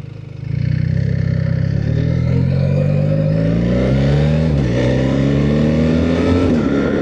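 A BMW R1300 GS motorcycle pulls away from an intersection and accelerates hard through first, second and third gear, its loud, close engine note rising steadily with abrupt dips at each shift.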